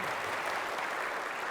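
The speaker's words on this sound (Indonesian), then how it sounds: "Tepuk tangan." An audience gives brief applause at a school gathering, a dense, even burst of clapping that stays steady throughout.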